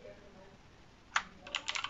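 Keys on a HIWING HI200 Bluetooth mechanical gaming keyboard are pressed, one sharp clack followed by a quick cluster of clicks, close and fairly quiet against faint room hiss.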